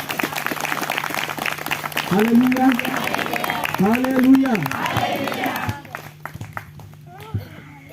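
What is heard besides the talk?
congregation clapping for God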